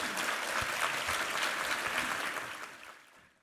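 Congregation clapping in a church during a Sunday worship service, a dense, steady wash of many hands close and loud, thinning and fading out over the last second.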